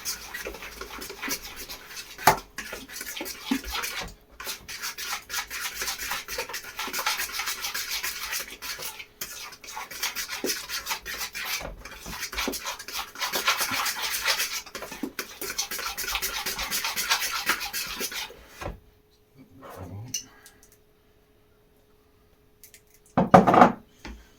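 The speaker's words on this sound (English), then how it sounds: "just keep mixing it just till it stiffens up a little bit into more of a dough" Homemade pizza dough being mixed by hand in a bowl, with continuous rubbing and scraping for most of the stretch, then a near-silent pause and a short final clatter.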